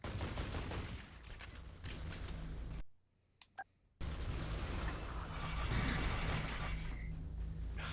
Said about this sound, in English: I see them shooting.